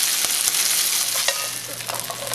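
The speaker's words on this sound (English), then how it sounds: "The clams are placed face down in a hot skillet and sautéed until the shells dry off and turn white" Puget Sound clams placed face down in a hot skillet, sizzling with a steady bright crackle and a few short scraping clinks of shells against the pan, with no one speaking.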